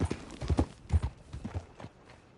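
A horse's hooves clop in irregular, close, moderately loud beats on hard ground in the Red Dead Redemption 2 video game, slowing and fading toward the end.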